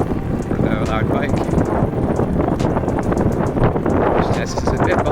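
Loud, steady wind buffeting and engine rumble from a noisy motorbike ride, recorded on a Poco F3 phone at 4K 30 with wind reduction on; someone talks continuously over the roar.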